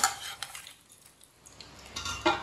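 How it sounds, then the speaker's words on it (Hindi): Egg and oat kebabs are moved onto a plate with light clinks and scrapes of utensil against plate, a few scattered close taps with a louder knock near the end. "अब इसे प्लेट में डाल लेते हैं"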